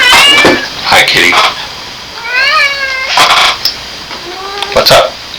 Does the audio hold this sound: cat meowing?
yes